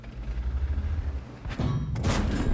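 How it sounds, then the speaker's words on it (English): In World of Tanks, an enemy shell strikes the armor of an E 25 tank destroyer and bounces off, a sudden heavy thud and crash that cuts through a low rumbling engine drone, followed by a second loud noisy burst. "we took a hit there, but we managed to bounce it"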